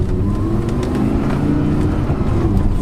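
An Audi R8 V10 with R-Tronic gearbox being driven, its engine a steady, loud low rumble that runs without a break and carries no speech.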